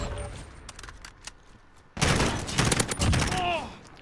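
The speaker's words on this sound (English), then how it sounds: "3 bursts of, 3 bursts of 3 rounds will come out every time you pull the trigger" An M16 firing three-round bursts in the video game Call of Duty Modern Warfare: after a quieter opening with a few faint clicks, rapid loud gunfire bursts run continuously for the last two seconds.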